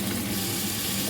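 Salted vegetables fry in oil while being lightly stirred, a dense, loud, continuous sizzle filling the brief moment without pause.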